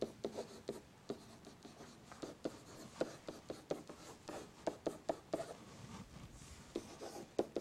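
A pen or pencil writes out a mathematical equation on paper, with quiet, close scratching strokes in short irregular bursts.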